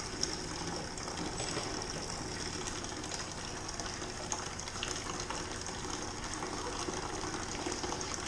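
Homebrewed Dunkelweizen wort splashing into a fermenter to aerate: a steady, continuous rushing and gushing pour, close and even in loudness for the whole stretch, no talking.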